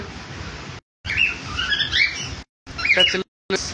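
Pet lovebirds and conures chirp close by in short bursts of high, sharp tweets and squawks, broken by abrupt silent cuts, with a person's voice murmuring underneath.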